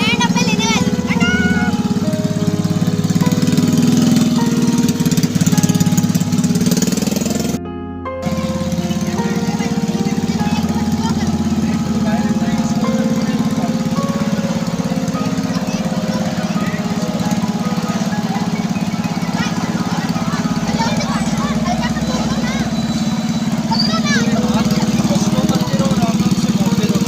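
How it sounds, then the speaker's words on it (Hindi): Small motorbike ride at Wonderland amusement park in Rawalpindi, its engine droning steadily and loudly for nearly the whole stretch with a brief cut partway, while a crowd and voices chatter underneath. "मैं बाइक पर बैठी हूँ एंड अब मैं लेने वाली हूँ।"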